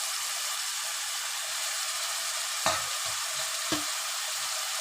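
Chicken pieces and chopped spring onions fry in hot oil with a steady, faint sizzle, broken by two sharp spatula knocks against the pan near the end; no one speaks.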